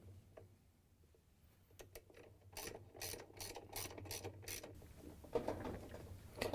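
A ratchet with a 7/16 inch socket tightens the agitator coupler bolt on a GE washer tub, a run of quick, evenly spaced clicks building in strength, close and faint, with no voices.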